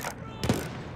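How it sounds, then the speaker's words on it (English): Artillery fire in Battlefield 1 lands as a short, heavy boom with a deep low thump midway, set against a continuous rumbling battlefield background. "Next round of artillery."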